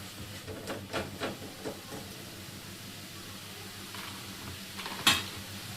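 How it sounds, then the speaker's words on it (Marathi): Pumpkin pieces sauté in ghee in a pan for pumpkin halva, giving a soft, steady sizzle with a few spoon-stirring scrapes early on and a sharper clatter near the end. "चांगलं तुपामध्ये परतलंय."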